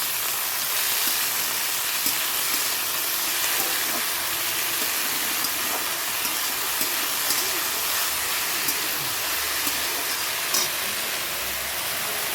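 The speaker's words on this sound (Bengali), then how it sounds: "একটু কালো জিরে ফোড়ন দিলাম আর শুকনো লঙ্কা" Black cumin seeds and dried red chillies tempering in hot oil with leafy greens, giving a steady, even sizzle and hiss that carries on without a break, close and moderately loud.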